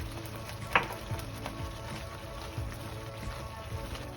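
Dhal cooking in a pot, a faint, steady low sizzle and gentle bubbling with a few soft clinks and ticks scattered through.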